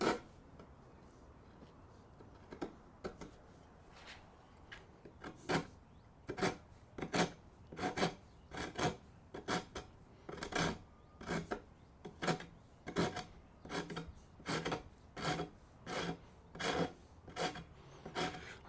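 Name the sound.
rasp filing rounded wooden workbench leg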